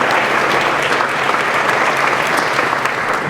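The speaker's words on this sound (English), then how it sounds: "Let's just give one more round of applause because that is awesome." A crowd at a downtown organization's annual meeting applauds loudly and steadily, a dense, continuous wash of clapping that holds at full strength throughout.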